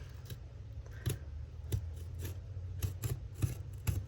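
A dull craft blade slices gently through the loosely sewn and glued binding of a handmade journal, giving a close, dry rasping scrape with a few sharper cuts spaced through it.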